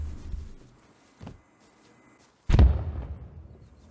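In the survival game Rust, a faint pop is followed by a loud, booming rocket blast with a rumbling tail that slowly fades, heard over a quiet background with no voices.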